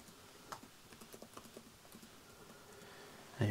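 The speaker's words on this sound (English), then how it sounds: "I'm going to be typing all results down today." Quiet, light keyboard typing in an ASMR setting, a run of soft, evenly spaced clicks over the first two seconds and then a louder bump near the end.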